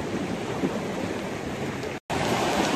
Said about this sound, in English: The water's rushing.